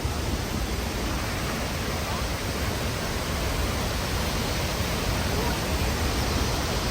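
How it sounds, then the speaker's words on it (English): La Fortuna Waterfall in Costa Rica, a roughly 200-foot drop swollen after morning rains, roars as a constant, loud, steady wash of falling water that fills everything, with a voice talking faintly underneath. "This is the La Fortuna Waterfall."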